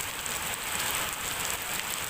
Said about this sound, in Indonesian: nggak nyangka kalau turun hujan